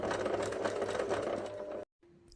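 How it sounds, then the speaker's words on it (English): Sewing machine stitching steadily around the curved edge of a fabric bear ear, a continuous close whirring hum that stops abruptly near the end, followed by a faint quiet tone. "Now that I've sewn all the way around the circumference of the ear"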